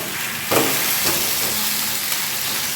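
Chicken stock, tomato sauce and other ingredients hit a hot pan of fried idli with a loud, dense sizzle and hiss, with a sharp splash-like burst near the start and a second smaller surge soon after.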